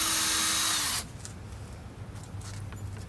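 A power drill whines loudly for about a second, then cuts out, leaving a quiet room with faint rustling, during a home project building a washing machine with kids.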